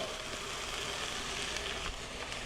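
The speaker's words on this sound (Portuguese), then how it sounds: "Vou botar a cebola, a cenoura, o alho poró" Browned chicken with onion, carrot and leek sizzles steadily in a hot pan, a dense, even crackle with small spits, close and fairly quiet with no talking.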